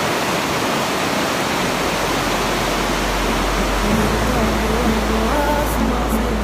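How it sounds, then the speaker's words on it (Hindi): The fast-flowing West Lidder river at Pahalgam rushes loudly and steadily, a continuous broadband roar of churning water with a faint tonal hum rising in the later seconds. "नीचे मैं आपको फ्लो दिखाता हूँ पानी का जो कि बहुत ज़्यादा"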